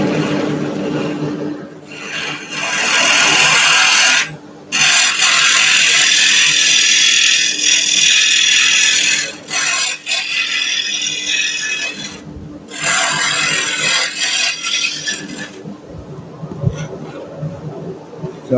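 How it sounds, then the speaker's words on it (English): A gouge scrapes and hums against a spinning wooden potpourri pot on a lathe during hollowing, a loud rasping whir in long passes broken by short pauses, close and dominant. "a little bit more hollowing."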